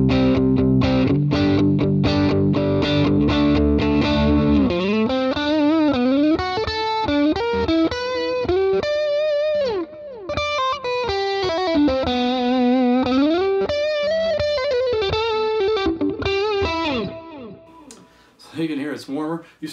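Electric guitar with Terminator 4/3 pickups, middle and neck wired in series, played through a distorted amp with chorus effect; loud chords give way to single-note melodic lines, ringing out alone.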